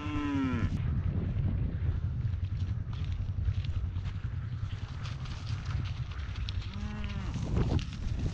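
Heifers in a cattle pen, a couple of loud close moos, one near the start and one near the end, over a constant rumbling background of wind and shuffling.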